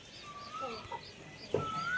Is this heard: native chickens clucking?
yes